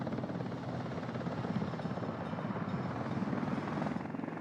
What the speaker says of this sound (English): Where's my helicopter? Oh, here it comes.